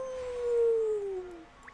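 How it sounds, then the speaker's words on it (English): A dog howls in the video game Professor Layton and the Azran Legacy, one long, clear, slowly falling wail that fades out, alone with no talk. "Got you, you big stupid dog."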